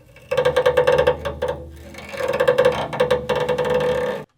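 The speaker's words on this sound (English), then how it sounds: "you take the bow, you press the bow against the strings, and then you just turn the bow like this" An upright bass with the bow pressed hard against the strings and twisted, producing rough, creaking, ratchet-like grinding bursts in several pulsing phrases, loud and close with no talking.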